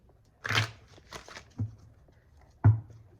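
A few soft, brief riffling bursts of cards being shuffled, separated by short pauses, close and fairly quiet.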